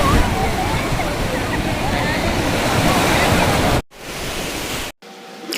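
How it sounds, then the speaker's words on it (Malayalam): Strong ocean waves crash at Kovalam beach in a loud, continuous roar of surf. The sound breaks off abruptly twice near the end. "നല്ല ശക്തിക്ക് തിരയടിക്കുന്നുണ്ടായിരുന്നു"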